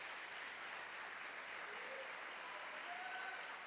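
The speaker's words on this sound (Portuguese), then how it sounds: "Você pode aplaudir ao Senhor para não ficar esse silêncio?" Quiet, even applause from a congregation during a church service, a soft continuous patter of clapping that stays level from start to finish, with a low hum beneath it.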